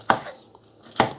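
Two sharp knife chops on a cutting board, about a second apart, as ingredients such as garlic are cut into small pieces for a tajine, close and distinct with quiet in between.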